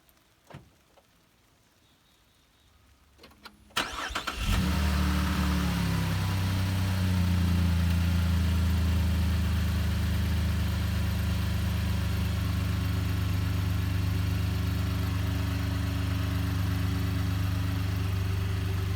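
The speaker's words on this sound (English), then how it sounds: "when it starts up some mornings, the timing chains are pretty noisy" After a few seconds of quiet and some clicks, a 2017 Chevrolet Colorado pickup engine with noisy timing chains cranks and catches, then settles into a loud, steady idle with a rattling mechanical clatter.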